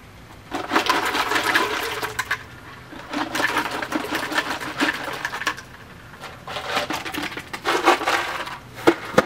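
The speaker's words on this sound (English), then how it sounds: "we're putting ice in it" Ice cubes tumble into water for an ALS ice water challenge, making repeated bursts of clattering, crunching and splashing in quick rhythmic waves, close and fairly loud.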